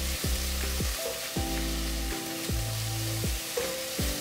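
Ginger and garlic fry in a pan with oil for a mango curry, giving a steady close sizzle broken by repeated scraping stirs of a spoon at a regular rhythm.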